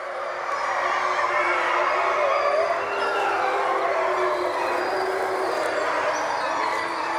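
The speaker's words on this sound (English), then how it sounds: "That's the grey wolf pack. They kicked off again." A grey wolf pack howls together in a pen outdoors, many overlapping wavering voices forming a steady chorus that continues throughout at an even, fairly loud level, with no one talking over it.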